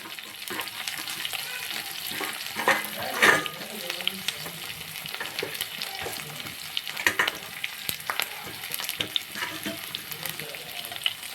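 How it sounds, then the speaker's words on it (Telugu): Small onions fry with curry leaves and coriander in a pan for tomato dal, a constant crackling sizzle up close broken by frequent scraping stirs and small pops. "ఉల్లిపాయలు బ్రౌన్ కలర్ వచ్చేంత వరకు ఫ్రై చేసుకుందాం"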